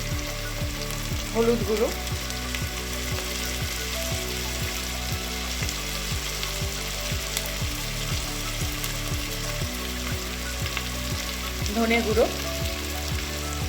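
Onions fry in oil for a dhaba-style veg pulao, a loud continuous sizzle with rapid regular scraping strokes of stirring, while someone talks over it.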